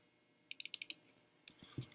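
Quick, light key presses on a computer keyboard, a short run of clicks followed by a pause and a few more taps, faint and close.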